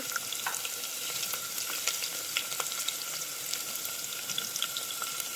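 Chopped onion and garlic fry in hot oil with whole garam masala, cinnamon and cardamom in a pressure cooker, giving a faint, steady sizzle with scattered small pops and stirring clicks, without any voices.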